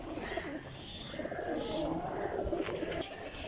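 Loft of high-quality flying pigeons cooing, a steady murmur of overlapping coos and calls filling the air close by with continuous ambient background noise.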